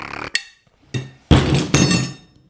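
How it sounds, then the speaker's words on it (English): Flat slapper plate striking the steel front fender of a 1937 Zephyr in a home garage, a few sharp metallic slaps with short ringing tails, close and loud. "you're just gonna slap it with a flat plate"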